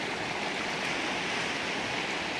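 Swollen Fojnica river after a storm, a constant broad hiss of fast-flowing water heard alone, steady and unbroken.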